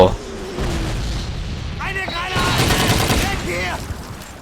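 Booming grenade explosions mixed with bursts of gunfire from Call of Duty 2, loud and continuous, with a voice speaking over the chaotic battle noise.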